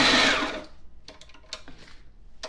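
A Sailrite Ultrafeed LS-1 sewing machine stitches through thick layers of heavy fabric with a brief loud mechanical burst, followed by quieter scattered clicks and taps from the machine.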